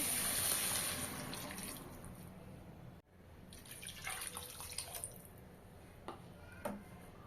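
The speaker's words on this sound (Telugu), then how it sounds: "ఇలా వెజిటేబుల్స్ కొంచెం ఫ్రై అయిన తర్వాత వాటర్ యాడ్ చేసుకుందామండి" Water poured into a pan of lightly fried vegetables for making upma gives a rushing splash at first, then settles into softer bubbling, trickling and scattered drips, close and fairly quiet.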